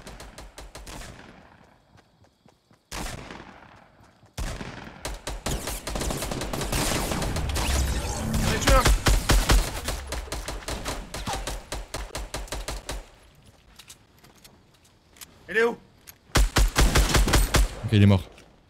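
Gunfire in the video game Fortnite, scattered single shots giving way to a long dense stretch of rapid automatic fire, then sparser bursts and a final quick volley, loud and close, with occasional voices over it.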